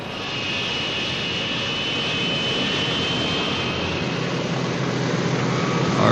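Bomber aircraft engines, a loud continuous roar that builds slightly and holds steady throughout, with no talking.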